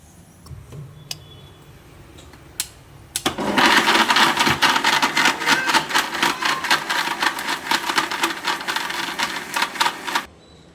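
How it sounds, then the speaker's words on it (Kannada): A mixer grinder blends coconut with spice powders and a little water in a Kannada home kitchen, starting after a few faint clicks into a loud, rattling whir that runs about seven seconds and then stops abruptly. "ಮಿಕ್ಸಿ ಮಾಡ್ಕೊಂಬಿಡಿ"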